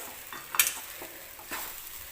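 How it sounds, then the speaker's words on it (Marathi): Sabudana khichdi is stirred in a pan, with a few scraping strokes of a spoon against the metal over a faint background sizzle, the sharpest scrape near the start and another about a second later. "मीठ टाकल्यानंतर हे व्यवस्थित आपल्याला मिक्स करून घ्यायचं आहे."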